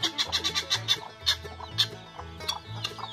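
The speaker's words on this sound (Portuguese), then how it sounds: "Olha só a galinha lá." Hen clucking in a farm chicken coop, a run of short rhythmic clucks repeating close by, with low background sounds in between.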